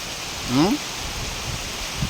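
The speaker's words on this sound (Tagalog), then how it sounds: "Kusog kayong hangin, idol. Ang ulan. Nibuylo ang ulan" Steady broadband rush of heavy rain and strong wind, loud and close, with a brief voice-like sound cutting through near the start.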